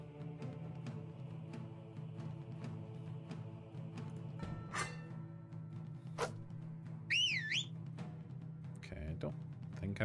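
Whistle sounds in the video game Braveland Pirate, a couple of brief rising and falling warbling tones over steady game music, with a player talking throughout.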